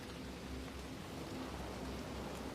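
Gentle rain keeps falling in a constant, quiet hush of drops, low in level and uninterrupted throughout.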